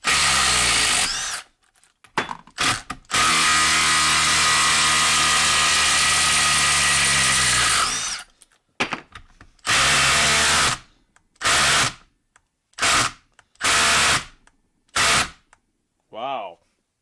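Milwaukee impact driver backing out a bolt, first a long, loud, continuous hammering run, then a series of short bursts separated by silences, close by with no talk.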